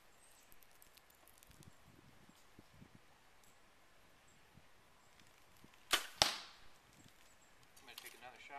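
An arrow shot from a bow while riding a Segway, a single sharp release snap followed by a quick whooshing hiss, loud and close against quiet outdoor rustle.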